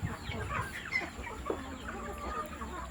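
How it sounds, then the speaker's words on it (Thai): Burmese gamecock chickens clucking steadily in a rainy-season farm setting, several birds overlapping in a busy, continuous chorus with a faint high electrical whine behind. "ไก่ก็สมบูรณ์ดีนะครับ แข็งแรงดีทุกตัวนะครับ"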